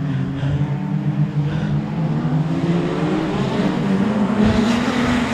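Race cars accelerate off the start line as the field gets underway, a loud, dense roar of several engines with rising, layered engine tones sustained throughout.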